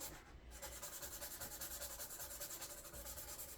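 Cleaner rubbed into a wooden guitar fretboard with a cloth, a faint, close, rhythmic scrubbing of quick back-and-forth strokes heard alone.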